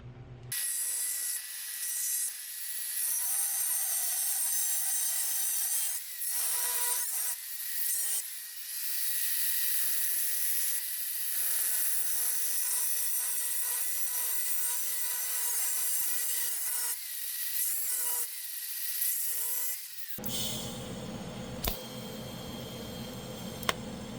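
Metal being cut for a 6R80 Coyote swap crossmember, a bright, harsh grinding whine in long sustained passes with brief pauses, close and loud, followed by a different rougher noise near the end.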